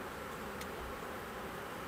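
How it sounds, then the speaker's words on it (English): Honey bees swarm around an open hive during an August apiary inspection and honey harvest, a dense continuous buzzing hum close by with no voices. "the bees are getting a little bit hostile"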